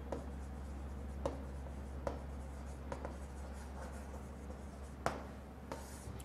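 Chalk or marker taps and scratches on a board during an organic chemistry lesson: a series of short, sharp strokes at irregular intervals over a low steady hum, with no speech.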